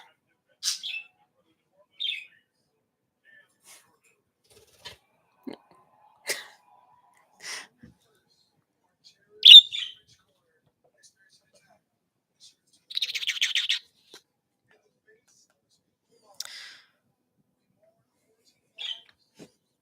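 A small pet bird that cannot fly gives short, sparse chirps and tweets, close by and scattered with quiet gaps, including one brief trilling burst.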